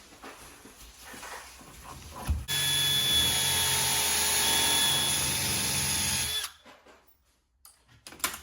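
A power drill bores a pilot hole through a cabinet clamp's preset guide hole, a loud steady whine running for about four seconds after a short start, then stopping abruptly, with quiet handling noises around it.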